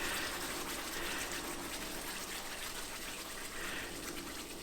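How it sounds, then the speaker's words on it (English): Salsa bubbles and sizzles in a hot cast iron skillet, a dense, steady hiss of frying and popping liquid, quiet and continuous with no voices. "It's going to bubble quite a bit here."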